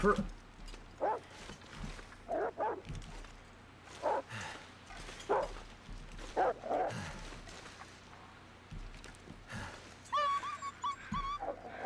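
A wolf in the survival game The Long Dark gives a string of short, sharp barks spaced every second or so, moderately close over a quiet wind-like background, with a few yelping, whimpering calls near the end.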